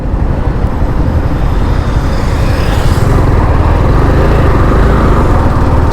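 A Yamaha R15 M v4 motorcycle engine heard while riding, loud continuous engine rumble mixed with heavy wind buffeting, steady throughout with no talking.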